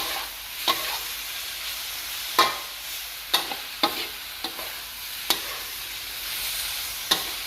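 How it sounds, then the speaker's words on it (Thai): Long green eggplant and minced pork stir-fried in a pan, a steady sizzle broken by sharp utensil scrapes and clacks at irregular intervals, close and moderately loud with no talking. "ผัดจนมะเขือสุกตามความพอใจของใครของมัน"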